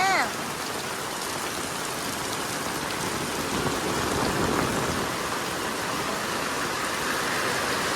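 Heavy rain pours onto a concrete path, a thick, even hiss of drops that stays steady and fairly close from start to finish.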